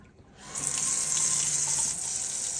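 Water starts gushing from a newly installed kitchen tap with a sprayer into the sink after a brief quiet start, then runs as a steady, close, bright hiss.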